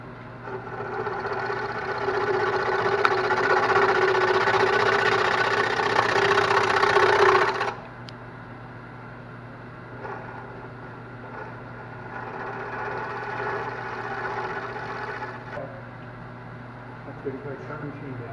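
A wood lathe runs while a bowl is turned, a steady close motor hum with a scraping cut that stops sharply partway through, then lower machine noise under a voice.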